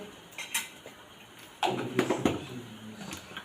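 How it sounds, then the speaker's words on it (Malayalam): Turmeric being stirred into a cooking pot full of vegetables: soft, close scraping and clinking of a utensil against the pot, faint at first and growing busier and louder partway through. "ശേഷം നമ്മൾ നന്നായിട്ട് ഇളക്കി കൊടുക്കും."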